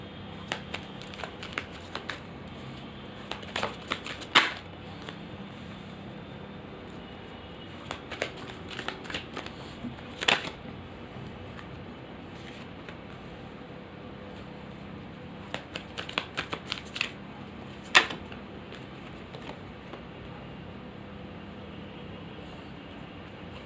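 Tarot cards are shuffled in repeated short riffling bursts, crisp papery flicks and snaps clustered at intervals over a quiet steady background hiss.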